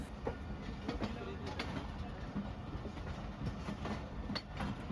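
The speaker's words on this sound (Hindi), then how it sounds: "ट्रेन ने ब्रेक्स लगाना शुरू कर दिया और हमारी एंट्री सांगला जंक्शन पर हो चुकी है।" Pakistan Express train braking as it pulls into Sangla junction on the Wazirabad–Khanewal branch line behind a Hitachi PH-20 locomotive, steady rumble and rattling wheel clatter with brief metallic clanks, fairly close and continuous with faint voices mixed in.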